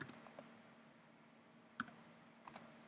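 A few scattered, quiet keystrokes tap on a computer keyboard close by, separated by pauses, over a faint steady hum, with no talking.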